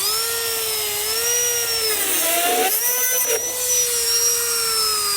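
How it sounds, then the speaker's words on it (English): Dremel rotary tool cutting off the end of a brake cable, a loud, high-pitched whine that runs steadily with slight pitch wobbles and a brief dip as it bites into the metal, up close with no talking. "So I'm bringing out a Dremel tool and I'm just gonna cut this end off."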